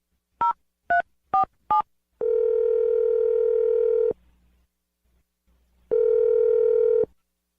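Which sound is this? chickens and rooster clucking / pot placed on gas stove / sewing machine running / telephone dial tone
telephone dial tone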